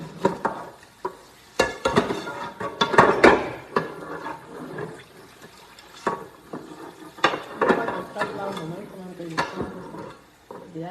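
Dishes are washed by hand, with intermittent clinks of plates, pots and cutlery and splashes of water, moderately close, under a voice talking throughout.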